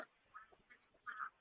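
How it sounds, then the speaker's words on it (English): Ducks quacking by a farm duck coop, a few short nasal calls spaced across the moment, the last one louder and longer, fairly close with no talk. "And then we have 30 ducks."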